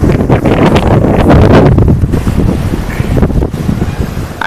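Rough sea at a fishing shore where the boats stay in: heavy, continuous roar of crashing waves and strong gusting wind buffeting the microphone, loud throughout.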